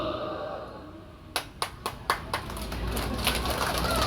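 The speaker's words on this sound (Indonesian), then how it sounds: "Ada pula grup tepuk tangan." A small group at a religious gathering at an Islamic boarding school inauguration claps in a short burst of about six sharp, distinct claps, moderately close, set against a quiet room with faint background murmur.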